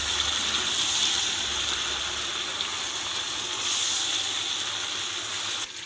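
Kohlrabi greens frying in hot oil in a pan for a kohlrabi-and-meat dish, giving a steady, fairly loud sizzle and hiss that holds throughout with no voices.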